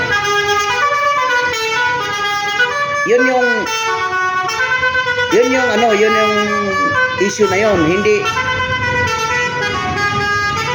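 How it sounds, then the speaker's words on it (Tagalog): A loud truck horn blares repeatedly in busy road traffic, with engine noise running throughout and people talking over it. "ingay na itong truck na to."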